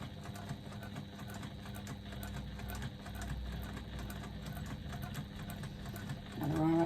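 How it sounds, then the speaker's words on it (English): Sewing machine stitching steadily all the way around a piece of faux leather for a small tray, a continuous close mechanical whir that grows louder near the end. "So I'm just going to do one stitch back at the beginning, and I'm going to go all the way around the outside of my faux leather."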